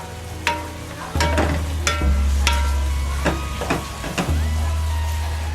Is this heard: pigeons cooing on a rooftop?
no